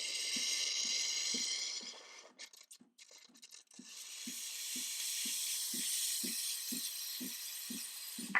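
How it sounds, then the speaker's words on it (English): Steam wand on a Turin Legato espresso machine blasting a steady, loud hiss after the shot, briefly sputtering and dipping before resuming its continuous rush, with a regular ticking pulse running underneath. "go ahead and immediately go into steam"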